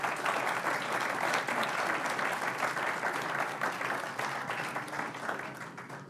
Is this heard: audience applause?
yes